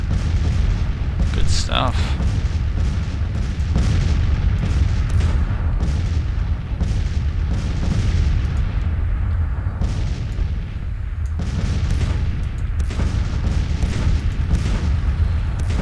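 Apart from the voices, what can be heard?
artillery fire in Civil War strategy video game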